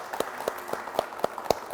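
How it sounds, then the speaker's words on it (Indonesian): Scattered, sparse applause from a small audience at a public service mall event in Yogyakarta, a few sharp, evenly spaced claps standing out over a low murmur. "Tepuk tangan dong buat Kota Jogja."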